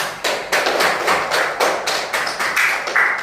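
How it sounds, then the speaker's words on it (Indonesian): A classroom of students applauds, giving several short bursts of clapping in an uneven rhythm. The claps are close and moderately loud, with no talk over them. "Kita beri aplaus untuk mereka."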